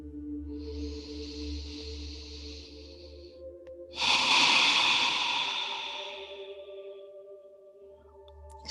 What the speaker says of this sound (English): 3 long breaths here.